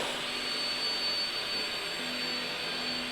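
Steady vacuum suction hiss from a robotic bin-picking gripper, a continuous broadband rush with a thin high whine, moderately quiet and heard alone throughout.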